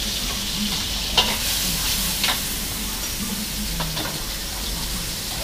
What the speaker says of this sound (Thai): ป้ากำลังจะทำข้าวผัดครับ